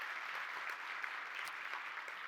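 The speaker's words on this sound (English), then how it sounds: "Let's give her a round of applause." A crowd claps steadily, a dense patter of many hands at moderate volume with no voices over it.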